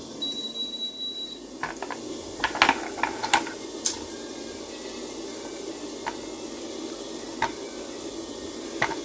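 Potatoes chopped with a knife in a home kitchen during a rushed morning cooking routine, giving scattered sharp taps at an uneven pace over a steady background hiss, with no talking.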